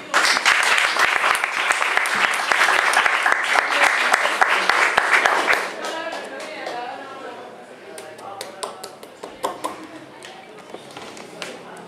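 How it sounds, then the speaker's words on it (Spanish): Applause from a small live audience welcoming performer Facundo Soto at El Emergente, loud and full for about half the clip, then thinning to sporadic claps as people talk quietly in the room. "Recibamos con un gran aplauso a Facundo Soto"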